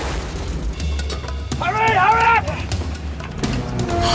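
A film-scene explosion rolls out as a deep, sustained low boom and rumble filling the whole stretch, with a short tonal cry-like sound rising above it partway through.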